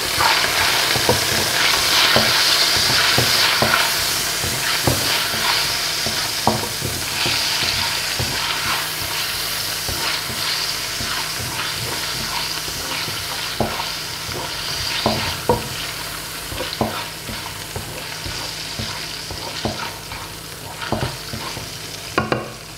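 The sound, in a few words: sliced vegetables frying and being stirred in pan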